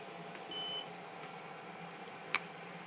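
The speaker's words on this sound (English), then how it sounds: "Heard the buzzer." A single short, sharp electronic beep from a Zendure SuperBase Pro 1500 solar generator's buzzer during Wi-Fi reset, heard once against a quiet room hum.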